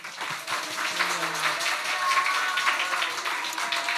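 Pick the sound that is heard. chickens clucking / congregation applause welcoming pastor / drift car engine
congregation applause welcoming pastor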